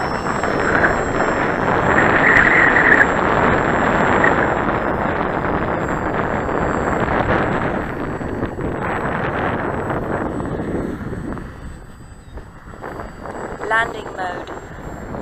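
Wind buffets the microphone at an RC plane flying field where a Parkzone Mosquito is flown. It makes a loud, continuous rumbling roar that eases toward the end, while people talk over it.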